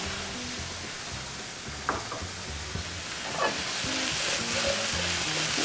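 Whole cherry tomatoes sizzle steadily in a pan, a close, even frying hiss with a few stirring scrapes and soft knocks, no talk.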